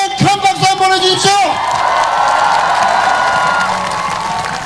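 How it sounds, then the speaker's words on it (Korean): A crowd at a Busan presidential election rally for candidate Moon Jae-in claps and cheers loudly, a dense sustained roar of applause with shouts, rising after a loud amplified voice. "동의하시면 큰 박수 한번 보내주십시오"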